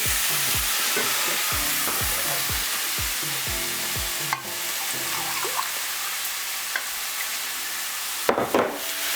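Bulgur and vegetable stock being stirred in a pan, a steady rhythmic series of close scraping strokes over a constant sizzle, with a couple of brief louder clatters near the end.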